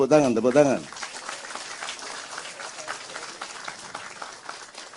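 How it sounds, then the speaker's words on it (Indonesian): Audience applause at a Maiyah community gathering, steady broadband clapping lasting several seconds after a brief voice at the start, moderately loud and fairly even throughout. "Tepuk tangan."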